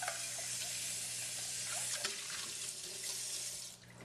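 Tap water runs steadily into a sink as henna paste ingredients are rinsed, a continuous close splashing hiss with small clinks, unbroken for about four seconds.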